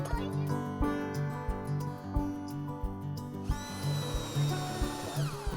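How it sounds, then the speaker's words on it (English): A drill bores a hole in wood, running continuously with a rhythmic, pulsing motor whine, shifting to a higher, smoother tone partway through; no talking. "We're going to drill a hole."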